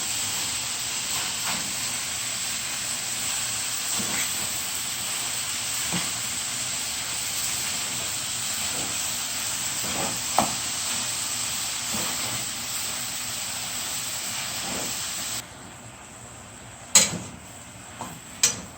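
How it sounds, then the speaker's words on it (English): Cabbage steams and cooks down with seasoning in a pot for corned beef and cabbage, giving a steady close hiss that carries on for a long stretch, with a few light clicks and clatters near the end. "the cabbage is steaming down"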